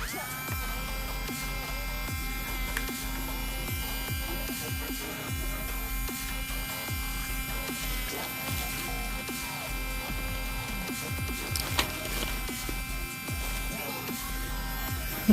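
An electric nail file runs with a steady, faint high-pitched buzz and hum throughout, with small clicks and handling noises scattered over it.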